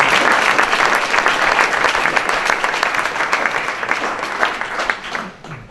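An indoor audience claps warmly to welcome speaker Bill Ritter, a dense, loud, sustained burst of many hands that fades slightly toward the end, with no speech over it.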